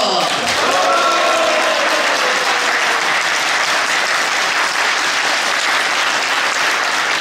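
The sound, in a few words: audience applause and cheering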